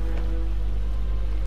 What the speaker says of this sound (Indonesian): Ini ada air, ya ada seperti hujan tapi ya mungkin dari atas ada air terjun gitu.